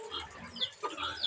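A pig grunts in a quick series of short, nasal snorts, close and fairly clear, with no talking over it.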